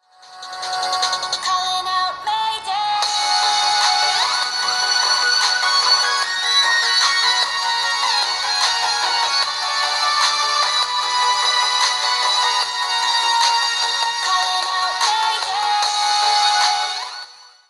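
Alldocube X Game tablet loudspeakers playing music, bright and thin with little bass, a steady continuous melody at constant volume for the full stretch, no talking.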